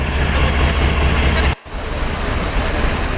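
A freight train runs steadily on a cross-border line between India and Bangladesh, a dense continuous rumble that briefly cuts out near the middle before resuming.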